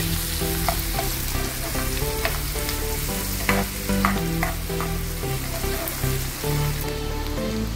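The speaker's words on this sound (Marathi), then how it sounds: "दोन कांदे घेतलेले आहेत बारीक करून चांगले ब्राऊन कलरला भाजून घ्या।" Finely chopped onions fry to brown in a pan for a bread bhaji, a loud, dense, continuous sizzle and crackle close by, with a few sharper stirring pops.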